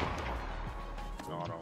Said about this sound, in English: I've been shot at.